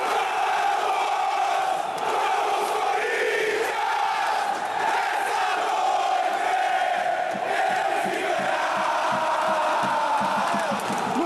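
Gaviões da Fiel Corinthians supporters chant loudly and continuously in the stadium stands, a massed roar of voices that holds steady and echoes across the ground.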